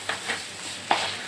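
A milk powder peda mixture is stirred and roasted in a pan, giving a low sizzle broken by three soft scraping strokes of the spoon, close and moderately loud.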